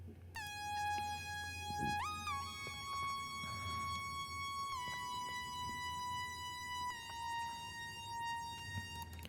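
A bright, buzzy analog FM synth lead plays long held notes that glide between pitches, with a faint hip-hop beat thumping underneath.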